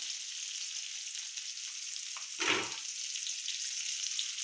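Onions sauté in a pan with a soft, steady high sizzle and one brief louder scrape or stir midway, close and without talk.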